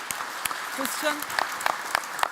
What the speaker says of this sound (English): Maybe round of applause again for